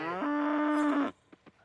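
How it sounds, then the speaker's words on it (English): A cow in the farming game Coral Island gives one loud, sustained moo of about a second, then a couple of soft clicks in near silence. "let's pat the cow"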